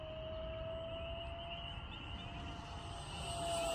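An Arrows F-86 Sabre RC model jet flying at full throttle in a steep climb, its steady, fairly faint high-pitched turbine whine holding constant and swelling slightly toward the end, with no one speaking.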